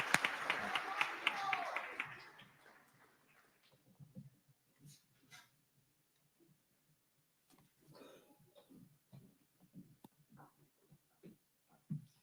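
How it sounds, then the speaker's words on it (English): A brief burst of audience clapping at a fifth grade promotion ceremony, fairly loud for about two seconds, then fading into quiet room sounds with scattered talking. "Let's give one more round of applause"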